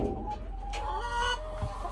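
Backyard chickens and a young rooster cluck close by in short, bursty calls, several overlapping in a quick two-second exchange.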